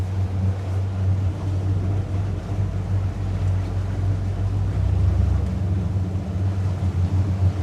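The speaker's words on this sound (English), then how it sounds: "we'll see how it responds just with engines, one forward, one reverse." Steady low rumble of a Navan S30 boat's twin engines, one in forward and one in reverse, with a deep drone and slight surges as the throttle shifts, with water noise around it.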